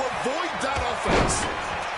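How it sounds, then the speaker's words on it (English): A body slam in the WWE 2K26 wrestling video game lands with a heavy thud on the ring mat, while a commentator talks excitedly throughout. "then he just picked him up and slammed him"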